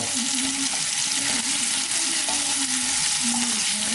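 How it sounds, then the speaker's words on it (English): A Bombay potato mixture with curry leaves is stirred in a hot pan, giving a loud, continuous sizzle with soft scraping from the stirring and no one talking. "I'm just going to keep stirring that mixture now"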